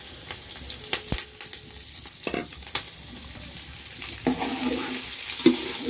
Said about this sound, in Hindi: हम थोड़ा सा भिंडी को फ्राई कर लेते हैं